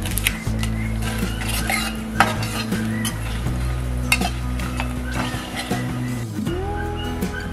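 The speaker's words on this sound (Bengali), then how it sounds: "এখন আমি শুকনো মরিচ এবং তেজপাতাটা একটু ফ্রাক করে তারপরে" Dry red chillies and bay leaves fry in hot oil for a Bengali plum and cranberry pickle, giving a steady close sizzle with scrapes and light clinks of a utensil against the pan throughout.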